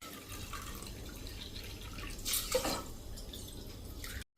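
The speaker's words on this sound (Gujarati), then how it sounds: "તો એનું 3 ગણું પાણી એટલે કે 3 કપ પાણી આપણે મૂકશું" Water splashes and trickles steadily for a few seconds, with a brief louder gush midway, as three cups of water are poured into a pressure cooker.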